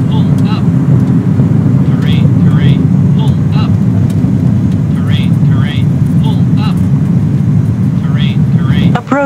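Airliner engines in Microsoft Flight Simulator 2020 during takeoff from Madeira Funchal: a steady, loud low drone running throughout, with short chirping voice-like sounds over it.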